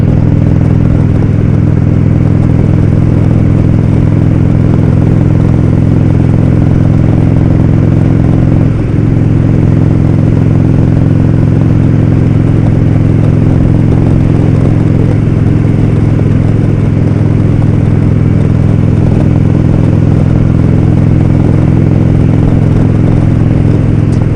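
Indian Roadmaster motorcycle with an air-cooled engine running steadily while riding, a loud, close, continuous low engine drone mixed with wind rush, holding even for the whole stretch with no talk.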